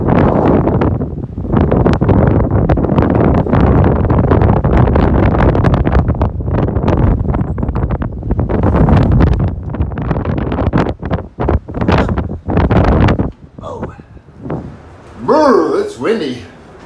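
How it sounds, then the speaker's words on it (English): Strong gusty wind roaring across the microphone on the Appalachian Trail for most of the stretch, then easing into intermittent gusts and a few brief whooshes near the end. "Windy."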